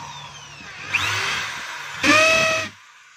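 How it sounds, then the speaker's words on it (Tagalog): A DeWalt DWD024 half-inch hammer drill with reverse and variable speed and a faulty chuck whines in two short bursts, a softer run followed by a louder, higher-pitched one, then cuts off into quiet. "Ito po yung 1/2 capacity ng DeWalt hammer drill"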